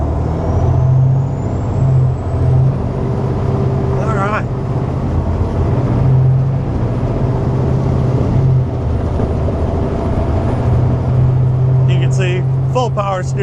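An M916A3 Freightliner 6x6 military semi truck drives on, its engine a loud steady drone with a brief hiss and rattle, while someone talks over it the whole time.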